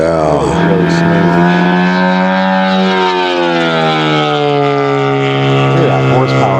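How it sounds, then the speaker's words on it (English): Giant scale F8F Bearcat RC airplane engine of about 21 horsepower running smoothly; a loud, steady, droning hum that shifts gently in pitch throughout, close and continuous. "God, that motor's just purring."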